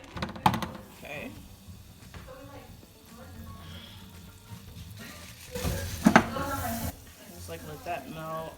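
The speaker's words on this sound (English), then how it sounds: "So butter's like kind of melting." A stick of butter melts in a pan for candied yams, giving a soft, steady sizzle with a few sharp clinks, while a person talks over it.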